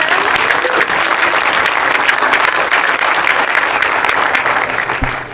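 An audience at a climate leader panel plenary session applauds steadily and loudly, a dense, sustained wash of clapping that runs unbroken through the whole stretch.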